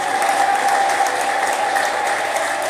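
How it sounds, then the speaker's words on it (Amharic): A church congregation claps together during a live Ethiopian preaching service, dense, sustained applause filling the room at close range, no talk. "አጨብጭቡ ለጌታ፣"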